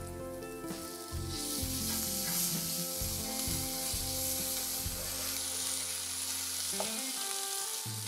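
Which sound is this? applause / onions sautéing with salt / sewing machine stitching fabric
onions sautéing with salt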